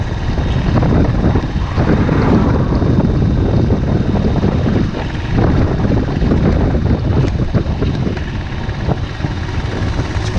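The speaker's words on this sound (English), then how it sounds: "it's pretty windy today" Outdoors on a windy fall day, wind buffets the microphone with a loud, continuous low rumble and roar that barely lets up.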